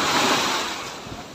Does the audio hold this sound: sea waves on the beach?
yes